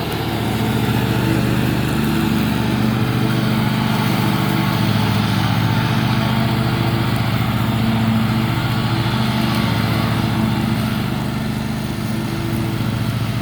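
A 54-inch riding mower with a bigger, more powerful motor runs steadily and close by, its engine drone holding an even pitch for the whole stretch with no talk over it.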